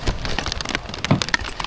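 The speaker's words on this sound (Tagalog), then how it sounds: "Umuulan." Rain falls steadily outdoors in the Philippines, a dense patter of drops striking a surface with scattered sharper taps, heard alone at moderate loudness.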